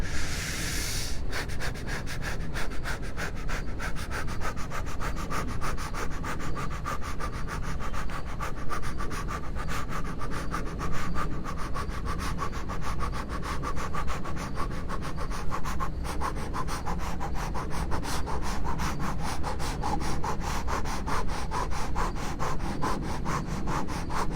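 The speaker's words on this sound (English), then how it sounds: "And we're going to do this again. Breath of fire." Rapid, rhythmic breath-of-fire breathing from a Kundalini qigong exercise: a long run of quick, evenly spaced forceful exhalations through the nose, close and steady, over a low droning background tone, with no talking.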